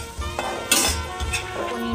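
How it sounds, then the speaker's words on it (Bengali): Potatoes frying in oil with curry leaves and chili, heard close as a brief sizzle with a scrape and clink of a utensil against the pan. "অল্প অল্প করে আলুগুলোকে ভেজে তুলে নেব।"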